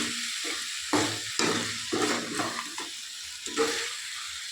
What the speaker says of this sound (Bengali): এবার এটা একটু নাড়িয়ে দেবো ভালো করে।